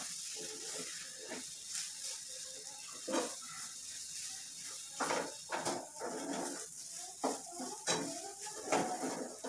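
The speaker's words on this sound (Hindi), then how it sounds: "अब इसमें ये चावल का आटा थोड़ा थोड़ा डालेंगे। इस तरह इसको मिक्स करें।" Rice flour stirred into boiling water in a pot, repeated close scrapes and clanks of a utensil against metal over a soft steady hiss.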